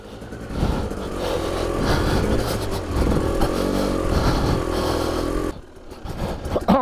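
A 2020 Husqvarna TE300i two-stroke motorcycle runs at slow speed, its engine burbling and rising and falling with on-off throttle, loud and close, dropping off briefly near the end.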